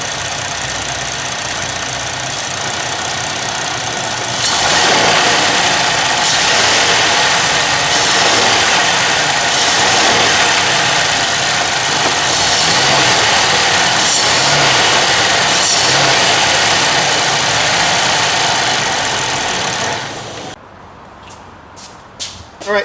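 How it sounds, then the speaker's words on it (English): A GMC Acadia engine held in drive against the brakes revs up hard and stays loud and steady for about fifteen seconds, a rough, knocking drone that then drops back toward idle, close and with no talk over it. "now I'm going to put it in drive and do a little power brake"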